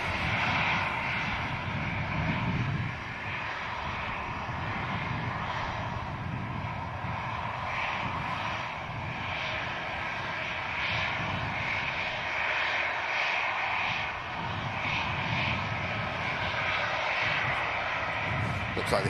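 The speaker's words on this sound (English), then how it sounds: "the Jun Yao is pushing back from the older 380 stand" A Juneyao airliner pushing back from its stand at Manchester Airport, a steady broadband engine roar holding at an even level throughout, with no clear speech over it.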